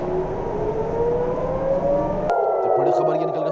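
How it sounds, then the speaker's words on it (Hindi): Air-raid sirens wail over Jerusalem and Tel Aviv during an Iranian missile attack on Israel, a steady rising tone sounding continuously with a distant, reverberant quality, then shifting abruptly to a different siren pitch. "तस्वीरों में आप सुन सकते हैं किस तरीके से लगातार जो है सायरन की आवाज़ जो है वो अब सुनी जा"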